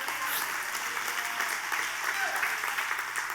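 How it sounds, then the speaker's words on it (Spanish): A church congregation claps together in sustained applause, a bright, even patter held throughout, with voices faintly mixed in. "Dale un aplauso a Dios por eso."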